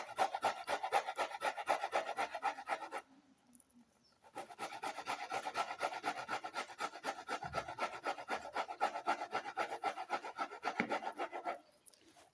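An onion is rubbed against a hand grater in steady rasping strokes, close and fairly quiet, with a brief pause partway through before the rhythmic scraping resumes.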